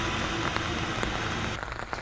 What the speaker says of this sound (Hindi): पुंछ में भी मूसलाधार बारिश हो रही है।